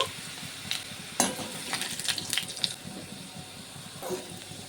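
Potatoes frying in oil in a wok, with a steady low sizzle and occasional sharper crackles and scraping stirs, close and fairly quiet, no talking.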